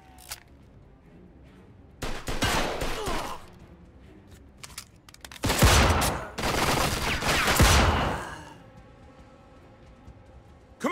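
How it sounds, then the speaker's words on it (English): Gunfire from a shootout in the video game Mafia 2 comes in dense, loud bursts of rapid shots separated by quieter lulls, close and echoing. "They're shooting from up top!"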